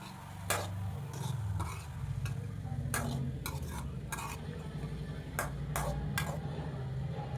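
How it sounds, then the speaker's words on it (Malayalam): Banana flower and green gram thoran being stirred and mixed in a pan with salt: a low steady hum and faint sizzle under repeated sharp scrapes and clinks of a spoon, close and continuous. "എല്ലാം നന്നായിട്ട് മിക്സ് ചെയ്യുക."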